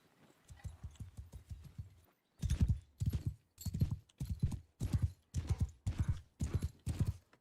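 Hooves of mounted cavalry horses in Mount and Blade 2: Bannerlord clatter in steady, loud clip-clop bursts, several horses moving together with a brief gap early on, no voices over them.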